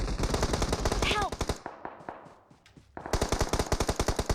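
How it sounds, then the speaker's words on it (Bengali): Rapid automatic gunfire from behind in a video game, a fast, loud burst of shots that pauses briefly and then resumes. "পিছন থেকে ফায়ার দিতেছে।"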